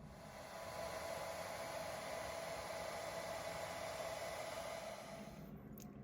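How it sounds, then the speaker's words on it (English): A hair dryer on a low setting blows to dry paint on a desert miniature base, a soft, steady airy whoosh with a faint motor tone that holds unchanged for several seconds. "use a hairdryer on a low setting and speed dry this"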